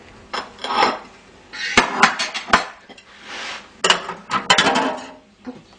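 Vegetables for a pot-au-feu tumble into a metal cooking pot, giving a run of loud clanks and clinks with sharp knocks and pauses between bursts, close by.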